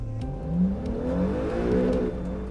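An Acura NSX engine revs during a break-in run, a steady, loud mid-pitched engine note whose pitch rises and falls gently across the span, with no talking.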